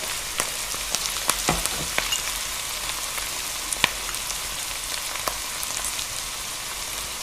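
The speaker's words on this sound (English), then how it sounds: "the onions are starting to get cooked, so we're going to add our chilli and our garlic" Chilli and garlic fry with softened onions in a pan for a chicken curry, giving a close, steady hiss of sizzling. Scattered sharp crackles and pops punctuate it throughout.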